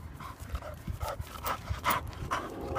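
A dog pants rapidly and steadily close by, with soft thumps and scuffling footsteps mixed in, fairly quiet overall.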